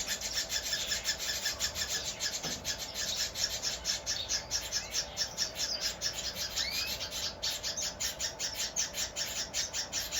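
Grass finch chicks chirp in a rapid, continuous begging chorus while a parent feeds them, the insistent high tweets steady and fairly close throughout.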